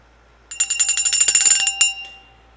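A green handheld dollar-store bell is rung rapidly about a dozen times, loud and close, with bright metallic dings that overlap and then fade into a short ringing tail.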